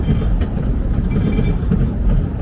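The Georgetown Loop narrow-gauge train with 3-foot rails, running downhill, gives a loud, steady rumble of wheels and cars close by, without a break.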